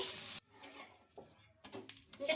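A dosa fries on a pan after being flipped, opening with a loud burst of hiss that cuts off abruptly, then faint crackling and light scrapes that grow slightly busier toward the end, close by.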